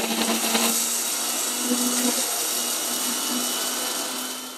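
Electric mixer grinder pulverising roasted red chillies with a little salt, a steady, loud whirring grind that runs without pause, with no talk over it.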